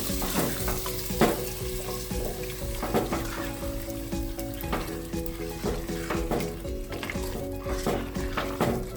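Botti curry stirred in a pan over a low flame, with scraping spoon strokes and a steady soft sizzle running throughout, close and alone.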